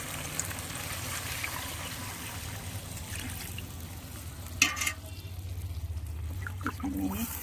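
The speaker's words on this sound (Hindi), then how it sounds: "इसमें मैं डालूंगी ग्रेवी के लिए पानी।" Water poured into sizzling fish curry masala in the pan to make gravy, a steady pouring and trickling wash over the constant crackle of frying spices, with a brief louder splash midway.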